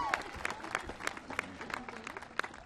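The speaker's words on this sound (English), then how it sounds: "they deserve a round of applause and a thank you from us" A graduation crowd applauds in a large venue, a steady spread of clapping from many hands with a few sharper claps standing out, moderately loud and heard from a middle distance, with faint voices beneath.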